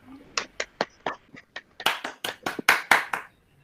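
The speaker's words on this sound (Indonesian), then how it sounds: "Tepuk tangan buat kita semua." A class of students claps hands in a series of sharp, separate claps that build into a louder, denser burst of group applause near the end.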